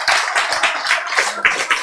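Audience at a health lecture clapping in quick, irregular bursts, nearby and fairly loud, with no talk over it.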